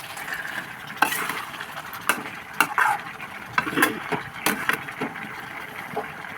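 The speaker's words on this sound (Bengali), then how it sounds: "এবার আরেকবার নেড়ে চেড়ে ঢাকনা দিয়ে দেবো।" Pre-fried potatoes being stirred into a Bengali chicken curry in a pan, a utensil scraping and clinking in several distinct strokes over a soft sizzle, close and without talk.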